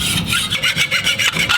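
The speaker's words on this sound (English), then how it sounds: "So whether you're draw filing this way or this way, as long as you're going this way along your metal, that's gonna be better." A hand file is draw-filed along the edge of a metal garden trowel, giving a close, steady series of gritty rasping strokes in an even back-and-forth rhythm with no talking.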